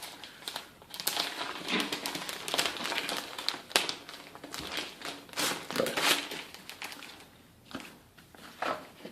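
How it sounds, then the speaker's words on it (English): Hard plastic bags crinkle and rustle while game components are unpacked from them, in irregular close-up bursts of crackling with short pauses between. "Get it out of the baggies. These are kind of a hard plastic bag"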